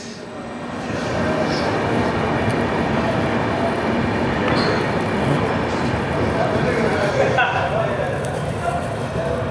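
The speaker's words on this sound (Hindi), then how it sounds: "मनमाड जंक्शन के प्लेटफॉर्म नंबर 5 पे खड़ी है देवगिरी एक्सप्रेस" The Devagiri Express stands at a platform of Manmad Junction, with a continuous, loud rumbling drone of a train and station ambience that holds steady throughout.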